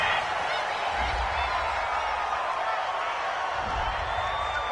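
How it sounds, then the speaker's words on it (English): A stadium crowd in an American football video game reacts to a referee's flag on third down, a steady broad roar of cheering with low rumbles swelling near the start and end, continuous and fairly loud throughout. "This home crowd, they're happy with that call."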